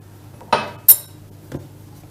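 A spoon scoops cream from a dish, making two short scraping clinks of metal against the dish and a fainter tap a moment later, close by in a quiet room.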